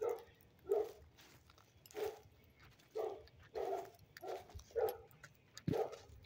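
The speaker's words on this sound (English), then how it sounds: "we hear some dogs in the background" Dogs bark repeatedly in the background on a ranch where people are camping, the barks faint and distant, spaced about a second apart in an otherwise quiet outdoor setting.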